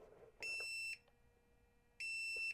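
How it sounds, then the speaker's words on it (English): An OLIGHT OStation X 3-in-1 battery charger sounding its tip-over alarm: two shrill electronic beeps, each about half a second long, separated by a short gap, close and clear. "it also has an audible alarm too"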